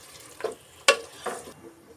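Marinated soya chunks are stirred in a frying pan over a low sizzle, with three or four short scraping strokes of the spoon, one sharper clatter near the middle.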